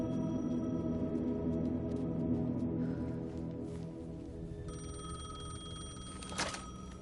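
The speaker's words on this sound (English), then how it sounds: "The payphone was ringing." A payphone rings in the video game Alan Wake 2. A steady electronic telephone bell sounds over a low, droning ambient hum and carries on through the whole stretch.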